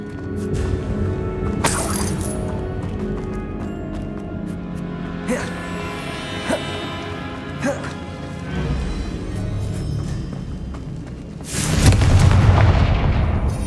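A Bombarda spell blasting apart a barricade in Hogwarts Legacy, heard as a loud booming crash with a crumbling debris burst near the end, following a stretch of layered game ambience and scattered thuds.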